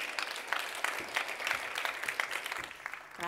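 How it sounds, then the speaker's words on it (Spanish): Audience applause greets a speaker taking the stage for a talk on virtual biology, many hands clapping in a brisk, even patter at moderate volume, with no voices over it. "un fuerte aplauso para ella"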